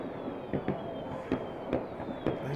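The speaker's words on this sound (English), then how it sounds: "The fireworks are going off." Fireworks go off in a park not far from a cricket ground. The bangs are distant and muffled and come in an irregular series of soft pops over a steady background murmur.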